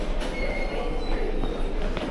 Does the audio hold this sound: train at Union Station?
yes